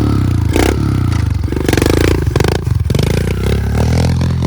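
Modified Kawasaki KLX 110 pit bike fitted with a paddle tire, its small engine revving hard and buzzing with pulsing throttle changes, loud and close, with clattering and scraping from the tire throwing dirt.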